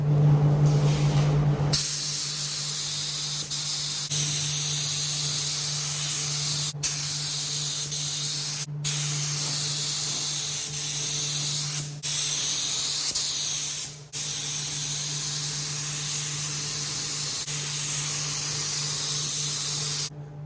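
Etch primer sprayed from a spray gun onto camping trailer panels: a steady, loud, close hiss running almost continuously, broken by several brief pauses between passes.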